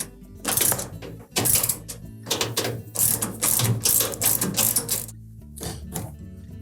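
Ratcheting clicks from a wrench tightening the bottom bolt of a Samsung washer's rear shock come in quick, close bursts of metallic clatter, separated by short pauses.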